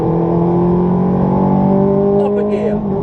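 A race car on a track accelerates hard at full throttle, its engine whine climbing steadily in pitch and staying loud and close throughout, with a voice talking over it.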